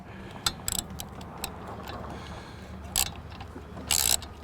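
A socket wrench ratchets on auger wear blade bolts of a volumetric concrete mixer, giving short bursts of clicking separated by pauses over a low background hum.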